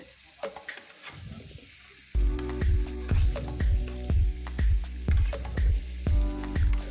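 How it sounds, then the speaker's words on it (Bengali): Pumpkin and potato stir-fried with spices in a pan, giving a steady loud sizzle with rhythmic scraping stirs about every half second, close and continuous after a quieter start. "এবার ভালোভাবে কষিয়ে নিতে হবে উপর নিচে করে দিতে হবে মশলাটাকে সব মিক্সড করে দিতে হবে কুমড়ো আলুর সাথে"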